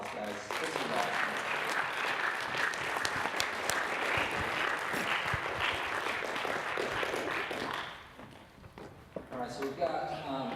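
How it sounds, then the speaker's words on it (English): A premiere-event audience applauds the film's cast in a dense, sustained burst of clapping with voices mixed in, fading after several seconds as talk resumes. "give them another round of applause, guys"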